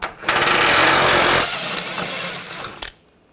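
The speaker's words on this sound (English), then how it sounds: "Using a 21mm socket, take this bolt out." Power tool driving a 21mm socket to remove a bolt from a Buick Encore's rear upper control arm, a loud, steady buzzing rattle for about two and a half seconds before cutting off sharply.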